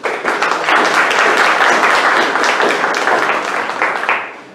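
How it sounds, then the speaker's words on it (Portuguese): An audience at a blog anniversary event gives a round of applause for Marcos: dense, steady clapping that stays loud for several seconds and then tapers off at the end, with no talking over it. "Salva de palmas pro Marcos."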